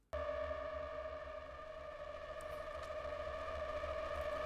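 A sci-fi electronic drum preset rings out as a sustained, buzzing synthetic tone with steady harmonic layers and a low pulsing throb, moderately loud and alone, with faint clicks near the end.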